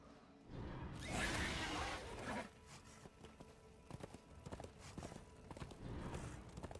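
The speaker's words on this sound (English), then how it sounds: "then take the horse and send me just jogging for a while" Horse hooves trotting in the video game Darksiders II, a steady clip-clop rhythm under a brief whooshing burst, with hoofbeats continuing at moderate loudness throughout.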